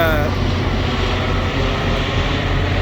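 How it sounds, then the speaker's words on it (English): Jet aircraft flying over a truck parking area, a steady broadband engine roar that stays loud and constant throughout with no clear rise or fade. "as we got the jet flying over"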